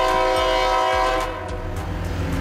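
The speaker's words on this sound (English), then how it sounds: "A train engine powered by diesel fuel, often used on non-electrified tracks." Diesel locomotive rumbling close by while its horn sounds a loud, sustained multi-tone blast that holds for nearly the whole short stretch.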